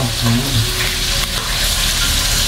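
Steady, dense sizzling of food frying in a pan, loud and close, a continuous crackling hiss with no talking.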